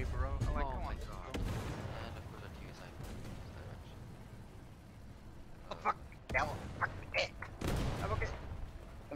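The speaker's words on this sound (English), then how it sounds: "Why artillery again?" Artillery fire in the War Thunder tank game, heavy booming blasts rumbling under near continuous talk, with a cluster of sharper impacts toward the end.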